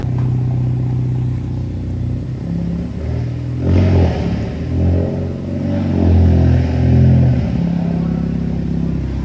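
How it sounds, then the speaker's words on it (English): A heavily modified Hyundai Elantra N with an added turbo revs hard, its steady engine rumble swelling into louder surges with a spooling whoosh, heard up close. "you hear the turbo spool sounds crazy"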